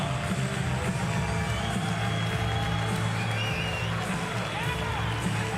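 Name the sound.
crowd applauding at Family Arena, St. Charles, Missouri, MMA event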